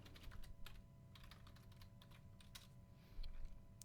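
Keys on a computer keyboard are typed quickly at a command prompt, producing a soft, close run of clicks with a few brief pauses and a louder final keystroke.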